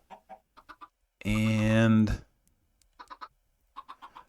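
Chickens in the video game Minecraft cluck in short bursts, with one longer, louder call in the middle, while someone talks over them.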